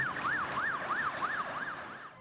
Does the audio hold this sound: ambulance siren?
yes